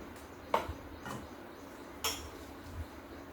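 Mustard powder being stirred for avakaya pickle spice, a spoon knocking and scraping against a metal bowl in a few sharp clinks spread over a few seconds, close and fairly quiet.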